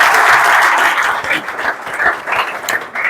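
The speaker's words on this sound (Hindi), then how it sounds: "एक बार और जोरदार तालियां बजाएं।" Loud, close crowd applause at a gathering, a dense burst of clapping that thins slightly toward the end.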